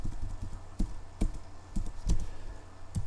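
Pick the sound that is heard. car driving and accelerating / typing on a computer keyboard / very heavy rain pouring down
typing on a computer keyboard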